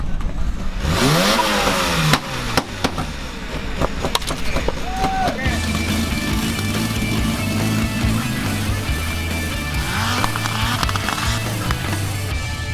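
A fully modified open-class off-road car revs on a track at the Johor Offroad Challenge in Malaysia, its engine droning and surging loudly over rough mechanical clatter, with voices partly heard.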